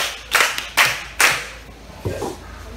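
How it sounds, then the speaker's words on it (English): A few separate hand claps ring out for a girl in a classroom-style gathering, three crisp close claps followed by a softer one, with quiet gaps between. "Clap for her."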